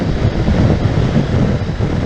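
Strong wind buffets the microphone on a very windy afternoon, a loud continuous rumbling roar with gusty swells and no voices.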